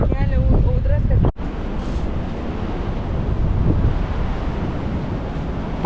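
Wind roaring across the microphone beside the choppy sea at Šventoji, a dense, steady rush blended with surf, with brief talk at the start before a sharp cut.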